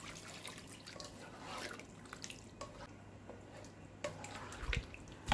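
Palabok noodle sauce mix being poured into water, a soft, trickling liquid pour with faint drips and splashes, fairly quiet and heard alone without talk.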